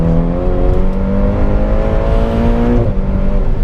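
A Ferrari Portofino's turbocharged engine revs steadily and loudly, its rising harmonic drone sustained throughout, with a brief dip near the end before pulling again.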